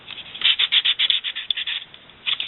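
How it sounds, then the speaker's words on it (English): Quick rhythmic rubbing strokes of sandpaper scratching against a paper letter, close up, in short bursts with brief pauses. "I'll just show you how I sand this letter"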